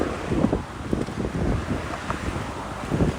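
Strong wind buffets the microphone continuously on a bicycle ride along the Jamaica Bay Loop in New York City, a rough, gusting rumble that swells and dips with no speech over it.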